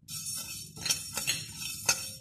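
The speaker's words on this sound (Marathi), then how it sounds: "दड्याला सुद्धा व्यवस्थित हलवून घ्यायचे।" Lentils being roasted for chakali flour are stirred in a pan, giving light, scattered clinks and scrapes in irregular bursts close by, with quiet gaps between them.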